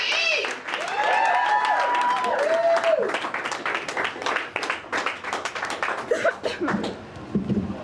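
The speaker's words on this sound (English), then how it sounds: "Keep your applause rolling. I didn't tell you to stop clapping." Live audience applause at a comedy stage show in Omaha, sustained dense clapping across the whole stretch with whoops and voices mixed in, fairly loud and close.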